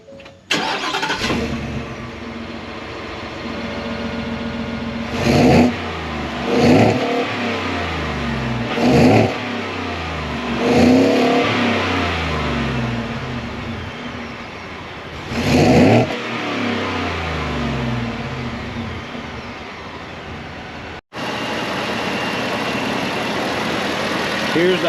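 A Ford F-150 pickup's 5.0-litre Coyote V8 idles steadily up close, broken by several sharp, loud throttle blips that rise and fall back to idle, with a brief cut near the end before the idle resumes.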